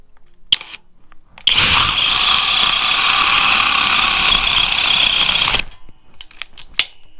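A Flex drill in turbo mode bores through a 4x4, starting after a short click and whining loud and close for about four seconds before cutting off, with light handling clicks before and after.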